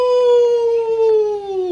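A group of people imitates a wolf howl, voices joining in one loud, sustained rising-then-falling tone that slowly drops in pitch, clearly vocal rather than an animal.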